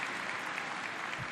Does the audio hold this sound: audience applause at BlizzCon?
yes